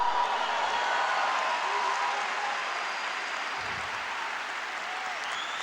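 A church congregation claps and cheers in sustained, dense applause that fills the space from start to finish, loud and even, with no clear voice on top.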